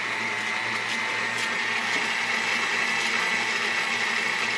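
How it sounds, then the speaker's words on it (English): An electric stand mixer running on low speed while mixing pineapple upside-down cake batter, a steady close mechanical whir with a constant motor hum and no pauses. "Go ahead and start on low. Oh, I guess it needs to be plugged in? Okay, fine. We'll plug in the mixer"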